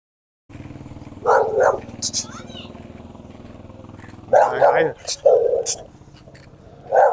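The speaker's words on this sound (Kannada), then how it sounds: "ನಾಯಿ ಬೊಗಳ್ತಿದೆ" A dog barking a few times in short bursts, heard over the steady hum of roller skates rolling on a road while skating to college.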